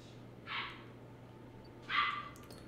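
Two sharp, separate barks from a nearby dog, spaced about a second and a half apart over a steady low hum, with no talking.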